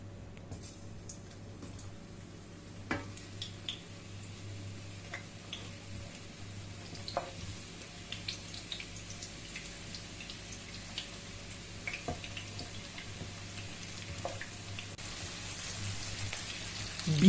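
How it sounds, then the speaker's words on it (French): Onions sautéing in oil in a saucepan while salted fried fish is prepared, giving a soft, steady sizzle with scattered small pops and ticks throughout, no talking. "Je fais sauter les oignons."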